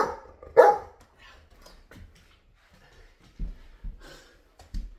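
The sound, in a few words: dog barking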